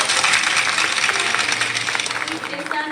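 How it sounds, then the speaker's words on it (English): Audience applause at a growth conference, with dense clapping running steadily throughout and some crowd voices mixed in as people give a standing ovation. "A standing ovation and a clapping ovation as she takes us on the next session"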